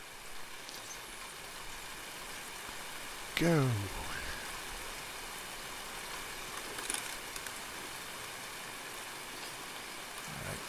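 Steady rain falls in Escape from Tarkov, a constant hiss throughout, with a brief voice and a sharp sweeping effect partway through.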